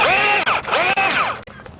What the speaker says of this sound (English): when you're drilling it out, you want to drill the head out only